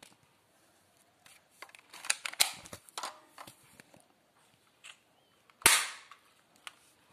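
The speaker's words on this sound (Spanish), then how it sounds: "vamos a disparar. Todo perfecto, disparamos más veces," A toy ball gun is fired several times, giving sharp, snappy clicks and pops spread irregularly, with one louder crack near the end, close and fairly quiet with no talk.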